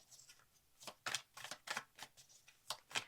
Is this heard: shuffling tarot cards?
yes